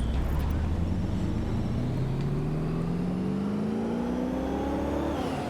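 A police car in the video game Watch Dogs Legion revs steadily, its engine pitch climbing smoothly as it accelerates and then dropping off briefly at the end. The engine is loud and close, with a constant roar beneath it.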